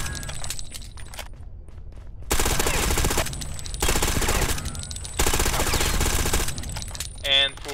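Bursts of rapid automatic fire from a CPW ModMaster gun in the shooter game Ghost Recon Phantoms, loud sustained volleys separated by short pauses, with a voice talking underneath.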